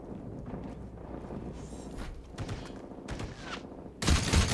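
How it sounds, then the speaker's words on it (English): Gunfire in a PvP shooter match while the player is being shot at: low, scattered bursts of shots under background noise, ending in a louder, close burst of rapid fire. "I did get shot at"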